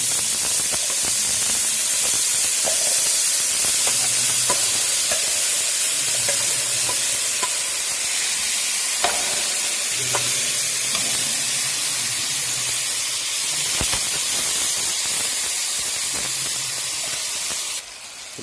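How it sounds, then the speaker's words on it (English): Rice is added to a pot and stirred in a steady, continuous sizzle of frying, with scraping stirring strokes and hiss running throughout, loud and close, no talking. "Now we are adding rice into it."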